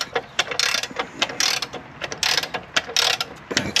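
A ratcheting jack mechanism under a 1968 Dodge Dart is cranked in quick bursts of metallic clicking, close up, with short pauses between strokes and no talk.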